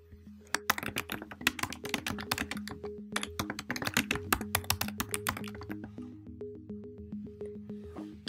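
Rapid, irregular clatter of keys as a reply is typed on a computer keyboard, close and fairly quiet, with steady bursts of taps and no voices.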